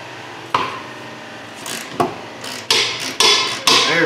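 A wrench working loose 18 mm bolts on a Chevy Traverse gives a series of sharp metallic cracks and clanks, about six hits spaced unevenly over a few seconds, close and fairly loud.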